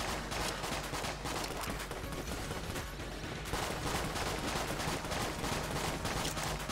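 Dense, continuous rapid-fire shooting from Enter the Gungeon fills the whole stretch, a relentless crackling barrage with no pauses, loud and even throughout.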